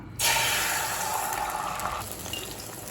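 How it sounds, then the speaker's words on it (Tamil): Beaten egg hits hot oil in a kadai and sets off a sudden loud sizzle that holds steady and then eases slightly as it keeps hissing. "இப்போ நம்ம அடித்து வச்சுருக்க முட்டையை சேர்த்துக்கலாம்"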